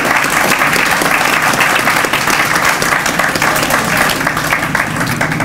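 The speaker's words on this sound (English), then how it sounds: "Give them a round of applause." Steady, loud applause from a crowd at a youth tech graduation in Roseland, many hands clapping continuously for the program staff with no pauses.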